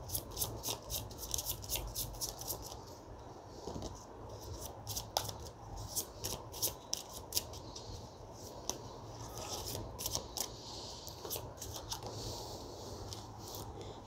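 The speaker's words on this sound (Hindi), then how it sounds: "मैं वापस शफल करूँगी।" Tarot cards being shuffled by hand, a steady run of crisp riffling and flicking snaps lasting several seconds, close and fairly quiet with no talking.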